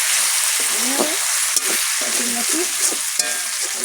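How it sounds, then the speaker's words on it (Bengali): Whole spices hit hot oil in a pan and sizzle with a steady, loud hiss while a spoon stirs them, with a few sharp scrapes and clinks of the utensil along the way. "তেলটা গরম হয়ে গেছে এরকম এগুলো দিয়ে দেবো"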